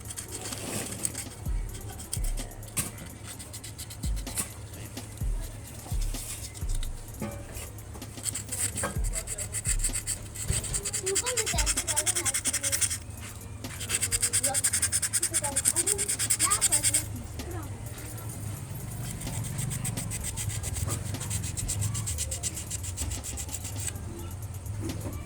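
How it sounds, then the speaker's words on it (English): Wire brushing scrubs rust off a corroded car AC compressor, a steady close rasping scratch that runs throughout with brief pauses, over a low background hum. "I'm even brushing all this."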